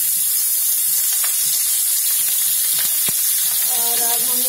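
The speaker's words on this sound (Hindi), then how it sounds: "अब हम इसमें हरा मिर्चा डालते हैं" Green chillies hit hot oil already holding cumin and broken dried red chillies for sambar, giving a loud, continuous sizzle with a few soft stirring knocks and scrapes.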